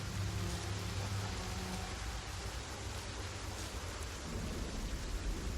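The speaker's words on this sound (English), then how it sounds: "Soaked by rain." Steady heavy rain with low thunder rumbles in a storm scene from The Pillars of the Earth video game, a dense continuous wash of noise heard alone with no talking.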